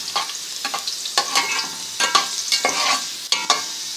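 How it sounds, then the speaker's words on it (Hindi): Garlic frying in hot ghee in a pan, a steady crackling sizzle broken by repeated scraping stirs at an uneven rhythm, close and clear with no voices. "हमने घी डाल दिया है, अब हम इसमें लहसुन डाल दिया है। लहसुन फ्राई हो रही है हमारी"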